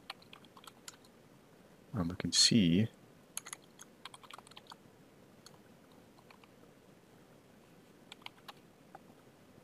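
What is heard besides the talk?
typing on a computer keyboard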